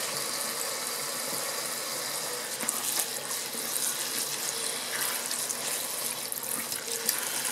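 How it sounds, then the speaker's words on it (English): Running tap water rinsing freshly harvested collard greens in a sink, a steady close hiss and splash that continues without break and with no talking. "I will go ahead and give this another rinse off before I blanch this."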